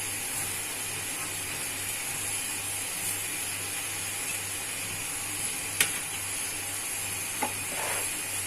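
Apple halwa cooking in a pan as sugar is added, giving a steady, close sizzle with occasional faint stirring scrapes and no voices.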